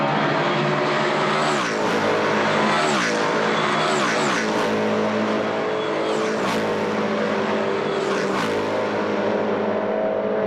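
Loud S5000 open-wheel race cars roar past on The Bend circuit one after another during a feature race, engines screaming and shifting gears, with a constant dense wall of engine noise.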